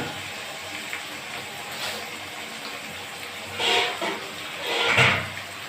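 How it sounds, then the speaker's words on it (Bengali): Water poured into a pan of spicy tengra fish curry with potatoes, a low hiss of cooking followed by two short gushing splashes near the end, close and moderately loud. "এবার আমি জল দিয়ে দেব।"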